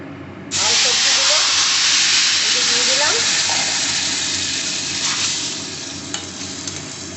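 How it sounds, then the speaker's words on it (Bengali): Boiled spinach hits a hot pan with a sudden loud sizzle that settles into steady frying hiss, broken by scraping stirs; a voice speaks briefly near the start. "এইবারে দিয়ে দেবো এই সিদ্ধ করা পালং শাক"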